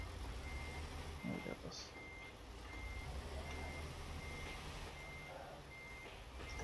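A truck backing a trailer sounds steady, evenly spaced reversing beeps over a low engine rumble, with a person speaking briefly.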